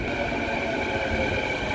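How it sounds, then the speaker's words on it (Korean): An underground subway train rolls into a station in Vancouver, a steady dense rumble of wheels and motor with a sustained mechanical whine above it, loud and continuous throughout, with no voices. "열차도 바로 온다."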